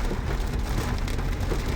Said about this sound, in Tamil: மறுகணமே மழை பெஞ்சிட்ருக்கு நல்லா.